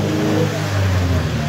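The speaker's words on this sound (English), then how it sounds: "Revving engines." A car engine revs with a steady, fairly loud mid-range growl, holding across the moment with slight rises in pitch, with a voice faint underneath.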